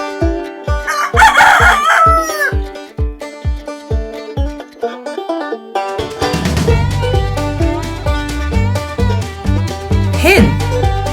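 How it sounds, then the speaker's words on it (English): A toy rooster voice crows a cock-a-doodle-doo, loud and close, alongside music and clucking fowl sounds from a farm animal toy set. "Rooster."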